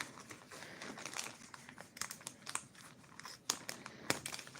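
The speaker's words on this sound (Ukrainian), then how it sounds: "зараз ми з вами розпакуємо разом і подивимося, що ж там було" Nova Poshta parcel packaging crinkles and rustles while being unpacked, a close run of irregular crackling bursts with a few sharper tearing snaps, with no voices.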